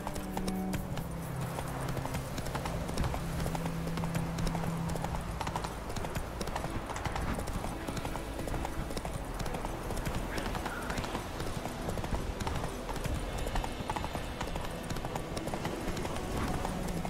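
A horse gallops in The Witcher 3, with rapid, rhythmic hoofbeats that run steadily throughout, faint under the game's ambient sound and a brief bit of talk.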